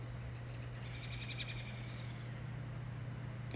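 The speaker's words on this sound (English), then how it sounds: "Hear the birds?" Faint bird chirps repeat high over a steady low hum outdoors, a few short tweets clustered in the first half and near the end.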